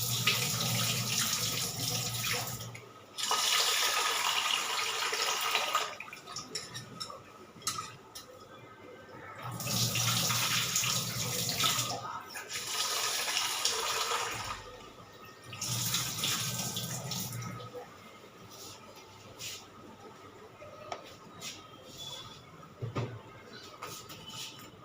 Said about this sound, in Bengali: চালটা ধুয়ে বসিয়ে দিই